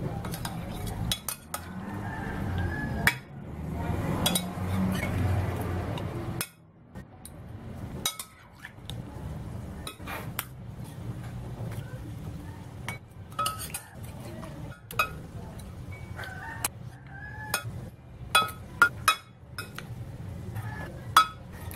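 Utensil clinking against a dish while fish seasoning is mixed, a run of sharp, irregular clicks and taps with a low rumble underneath, busiest in the first few seconds, then scattered bright clinks continue.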